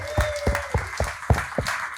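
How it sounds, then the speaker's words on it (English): Audience applause at a comedy debate game show, a short burst of rhythmic clapping with about seven distinct claps from a small crowd, fairly close. "Give it up for Mike and Amy, everybody"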